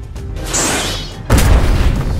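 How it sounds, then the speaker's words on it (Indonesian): A loud, deep boom erupts after a rising rush, followed by a heavy rumbling roar that fills the space. "Ledakan besar terjadi"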